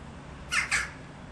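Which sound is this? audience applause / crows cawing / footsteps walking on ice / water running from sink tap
crows cawing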